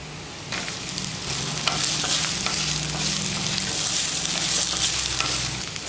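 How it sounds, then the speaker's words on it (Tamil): Potatoes fry in hot oil with cumin and softened onions, a steady close sizzle running throughout with occasional scraping stirs and no voices. "உருளைக்கிழங்கு வந்து இந்த எண்ணெயிலேயே நல்லா ஃப்ரை பண்ணணும்"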